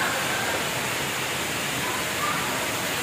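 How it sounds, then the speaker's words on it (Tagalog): Spring water on Mt. Banahaw flows beneath a rock, a steady broadband rushing and gurgling wash heard close and continuous, with no talk over it. "So galing yung tubig dito tapos nagpo-flow papunta dun sa baba."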